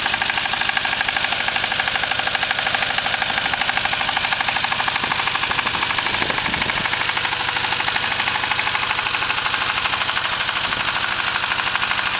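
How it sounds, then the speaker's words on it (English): S1100 indirect injection single-cylinder diesel engine running on vegetable oil at around 1500 RPM: a steady, rapid rhythmic chugging and knocking that stays loud and even throughout, with no talking. "It's an indirect injection engine, which helps in the burning of alternative fuels, but it also means it runs quieter."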